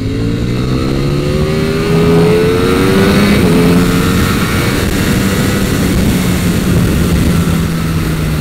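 A 2020 Ducati Panigale V4 S engine accelerating on the Bahrain circuit revs and climbs in pitch, dips briefly, then surges again with a sustained roar, close and continuous with no voices.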